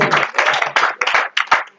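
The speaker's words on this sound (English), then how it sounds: "Give her a hand clap." A church congregation claps at a Baptist church anniversary celebration, with brisk uneven bursts of hand claps in a quick rhythm, close and fairly loud, tapering off at the end.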